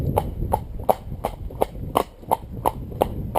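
A cob horse trotting in a straight line, crisp, even hoofbeats at roughly three per second, close and steady with no voices.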